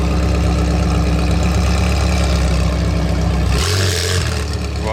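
A McLaren 720S fitted with an aftermarket exhaust rumbles steadily and loudly up close, its engine note holding constant before a sudden brash burst of higher-pitched roar near the end.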